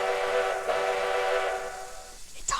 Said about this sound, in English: It's honestly my favorite Polar Express whistle ever!